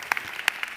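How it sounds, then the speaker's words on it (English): A few scattered claps from a conference audience, sparse and brief, fading almost as soon as they begin. "Round of applause for that sharing"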